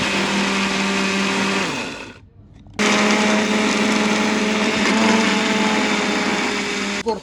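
A mixer grinder jar grinding roasted flattened rice (aval) into powder, a loud steady whirring roar that cuts off briefly near the two-second mark, then restarts and runs on.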